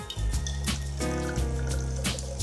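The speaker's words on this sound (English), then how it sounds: "First, pour vanilla vodka into a shaker." Vanilla vodka pours into a cocktail shaker, a close, continuous gurgling stream of liquid with a rising tone as the vessel fills.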